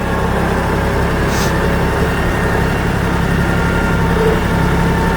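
A steady, even tractor engine idle rumbles continuously, low and loud, with no change in pitch and no talking.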